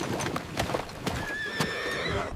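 A horse neighs while its hooves clip-clop in a quick, irregular series, close and clear, with no voices over it.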